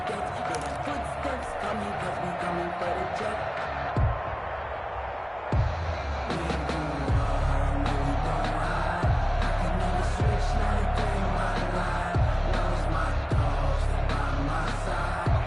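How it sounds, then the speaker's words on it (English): Stadium crowd noise from an American football video game on PS4: a steady, dense roar with scattered thumps and swells, running throughout under a voice. "That just means this crowd's going to get even louder."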